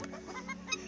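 Backyard chickens cluck softly in a coop after being fed household food scraps, a brief close burst of overlapping hen chatter with no voices.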